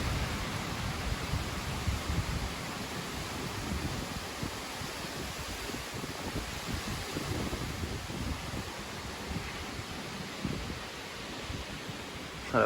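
Strong storm wind gusts roar steadily as storm Aurore sweeps over Amboise, a broad, loud, unbroken rush with buffeting surges close to the microphone and no voices.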